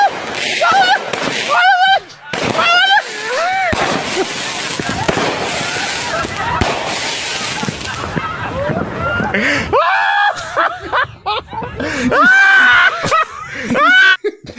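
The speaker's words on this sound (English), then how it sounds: "Fireworks fucking up is one of the funniest things ever." Fireworks going off and misfiring: sharp cracks and bangs burst repeatedly amid excited shouting, laughter and crowd noise, loud and close throughout.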